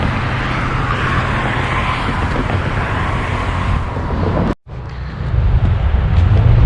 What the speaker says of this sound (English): There is so much traffic here right now.